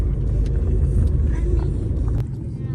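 A car on a long family road trip crosses from Poland into Czechia. The engine and tyres make a loud, steady interior rumble throughout, and a brief voice comes through now and then.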